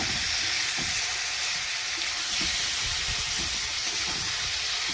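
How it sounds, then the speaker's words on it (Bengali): Potato and cauliflower fry in oil in a pan, giving a loud, steady hiss and crackle of sizzling throughout with faint scraping underneath. "ভালো করে ভেজে হচ্ছে, ভালো করে ভেজে নেব।"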